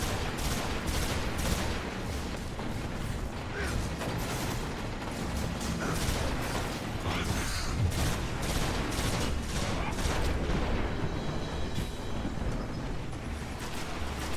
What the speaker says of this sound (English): It's just rockets blowing up everywhere.